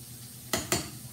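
Grits and butter stirred in a pot, two short scraping strokes close by, each lasting a fraction of a second, against a low steady kitchen background.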